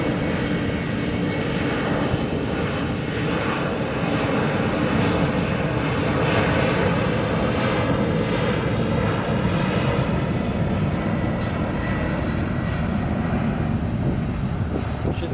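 A heavy jet airliner at Sky Harbor International Airport, a steady, loud engine roar that holds for the whole stretch with no break, broad and rumbling with faint wind noise and no talking.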